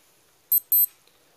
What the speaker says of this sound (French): avoir l'alarme de bip